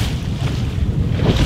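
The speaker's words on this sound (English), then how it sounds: "He's fighting the waves" Ocean waves surge around a swimmer near an island, heard as loud, continuous rushing water mixed with heavy wind buffeting the microphone, with no speech.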